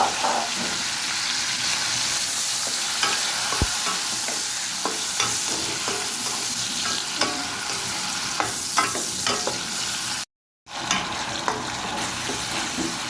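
Onion frying in hot oil for a dried fish dish, giving a continuous loud sizzle and crackle with scattered sharp clicks of a utensil stirring against the pan and a brief dropout near the end.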